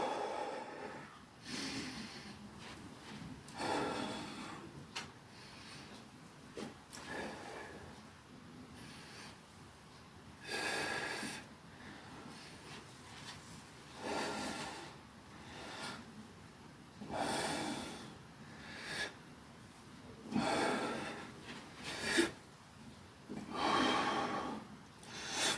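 Forceful exhalations and snorting breaths recur at irregular intervals during an isokinator and bullworker strength exercise, close to the microphone and quiet, with faint rubbing between them.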